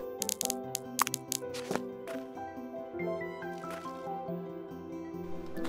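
Watering crops in the farming video game Staxel on a winter day: soft squishy splashes and drips in short bursts over a steady tonal game music bed, with no talking.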